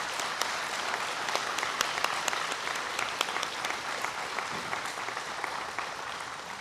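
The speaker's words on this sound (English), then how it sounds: "Please help me thank and honor with a round of applause Mr. Scott Nave and Mike Fagan." A high school graduation audience applauds, a steady wash of many hands clapping at moderate distance, sustained and fairly even without speech over it.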